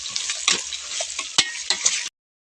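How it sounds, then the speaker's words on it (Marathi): Vegetables frying and being stirred in a pan while making khichdi, a close, steady sizzle broken by several scraping stirs, with no voices. "मी नाही थोडं तळून घेते"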